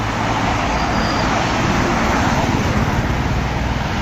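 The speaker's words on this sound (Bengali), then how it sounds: "এই যে মোটরসাইকেল আসতেছে বাবা," Highway traffic rushes past close by, a loud continuous roar of road vehicles with no single passing vehicle standing out.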